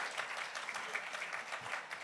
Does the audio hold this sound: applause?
yes